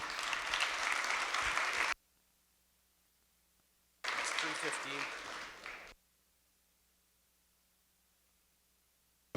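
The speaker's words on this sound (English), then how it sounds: "So one more round of applause." Audience applause at a panel event comes in two separate bursts of dense clapping, each about two seconds long, with near silence between and after them.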